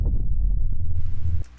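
A slamming door sample pitched down 30 semitones becomes a deep, rumbling low boom that sustains for over a second before cutting off.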